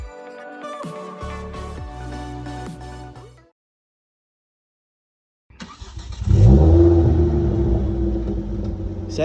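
After a brief burst of music and a pause of silence, a Honda Civic Type R GT (FN2) engine rumbles up loudly and revs as the car pulls away.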